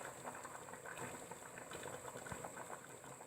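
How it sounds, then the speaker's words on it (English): A pot of native soup with dried crayfish, pepper and bouillon cubes bubbling at a steady boil, a soft continuous burble with small pops, quiet and close, no voices. "I've allowed it to boil"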